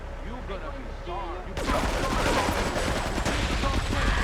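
Shotgun fire in Grand Theft Auto III on the PS2: after a brief voice, a loud, dense barrage of overlapping gunshots keeps going without a break.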